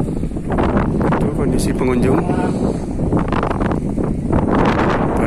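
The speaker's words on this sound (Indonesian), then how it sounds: "Kebetulan angin lagi kencang banget ya. Jadi mungkin suaranya kerasa gerusu." Strong wind buffeting the microphone on the hilltop of Bukit Pereklan near Takengon, a steady loud rumbling roar that runs throughout while a person speaks over it.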